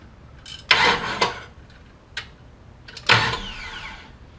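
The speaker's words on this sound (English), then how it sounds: "hit the button and it'll turn over the motor" A starter motor on a Summit Racing Max-EFI 500 test setup cranks in several short bursts, each a whirring spin of about half a second, loud and close, with quiet gaps between and no talk.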